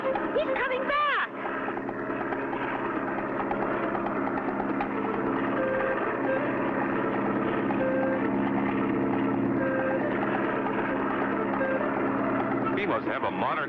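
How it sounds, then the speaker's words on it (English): An old German World War I propeller plane drones steadily and loudly throughout, its engine roar holding nearly constant with a brief dip near the start, close and unbroken. "an old German World War I plane dives out of the volcanic mist"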